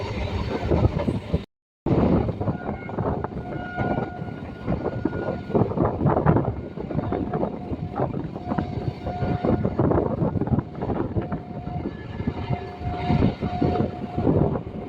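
Lalgola–Sealdah MEMU electric train running steadily past Palta station, a loud continuous rumble of wheels and carriages with rhythmic rail clatter throughout, briefly cut by a short gap near the start.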